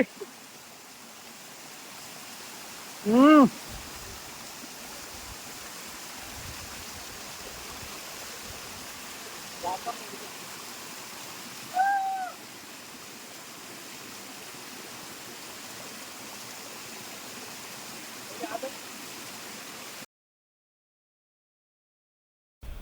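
Steady rushing water from the Antharganga waterfall in Hyderabad fills the background, with a few faint, brief voices and bird-like chirps rising above it before it cuts out.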